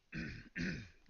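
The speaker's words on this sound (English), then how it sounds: "cough up phlegm balls into the mic." Someone clears their throat twice into a microphone, two rough, close-up rasps in quick succession, quiet overall.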